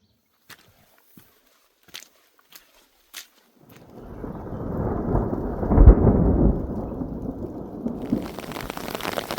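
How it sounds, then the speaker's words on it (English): A few sharp drips tick at first, then a deep rolling rumble of thunder swells with steady heavy rain pouring down at a mountain campsite below a pass. "So currently I am waiting out the storm before I go up over this pass"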